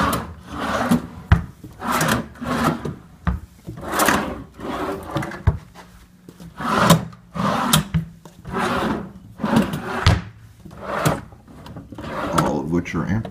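Hotel room drawers slide open and shut repeatedly, wooden scraping and thumping in a steady series of about a dozen movements, close by.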